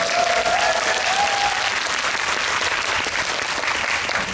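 A talk-event audience in a hall breaks into loud, sustained applause, dense clapping that fills the whole stretch, with a brief voice rising over it at the start.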